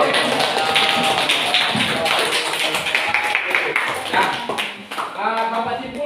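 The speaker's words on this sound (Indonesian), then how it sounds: "Ya, tepuk tangan dulu." Applause from an audience at an Indonesian moderated discussion session, a dense, steady wash of many hands clapping close by for about five seconds before a voice begins speaking.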